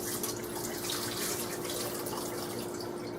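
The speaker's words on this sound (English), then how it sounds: "So I'm going to just rinse my rice" Water runs and splashes steadily as rice is rinsed in a pot and the water poured off, a close, continuous gushing wash with no voices.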